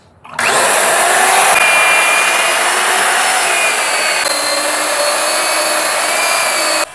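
A water-cooled core drill bores through a wall for an air conditioner install, starting abruptly and then grinding loudly and continuously at a steady pitch for several seconds before cutting off.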